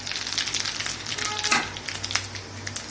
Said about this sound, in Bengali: জিরে, গোটা জিরে, দালচিনি, লং, এলাচ আর শুকনো লঙ্কা তেলের ওপরে ফোড়ন দেবো।